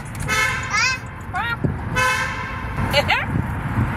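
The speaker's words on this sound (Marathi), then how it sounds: "हॉर्न कसा वाजतो?" Several short car horn toots sound in quick bursts, some with a wavering pitch, over a busy background of road noise and voices.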